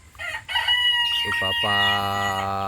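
Brahma and native breed hens call near the microphone. A loud drawn-out crow-like call follows brief clucks, and a faint voice sits underneath.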